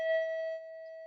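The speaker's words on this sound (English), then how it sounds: "Oh, the bell just went off." A steady electronic bell or chime tone rings alone, a single sustained pitch with faint overtones that holds for about a second, loud at the start and then slightly softer, with no voices.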